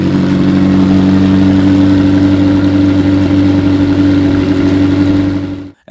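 A McLaren 720S engine with its rear exhaust cans fitted runs loudly and steadily close by, a deep, even idle drone that holds for several seconds before cutting off abruptly at the end.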